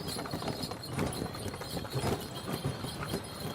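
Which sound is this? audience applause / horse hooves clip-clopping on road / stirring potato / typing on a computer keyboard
horse hooves clip-clopping on road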